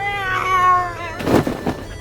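A pet cat left outdoors meows loudly and close by, a drawn-out harmonic cry followed by a shorter, rougher call, as if asking to be let back inside.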